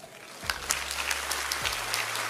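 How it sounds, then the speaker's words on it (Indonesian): Audience clapping breaks out during a church sermon, a steady wash of applause from a crowd lasting a couple of seconds, no voices on top. "Kenapa tepuk tangan lo?"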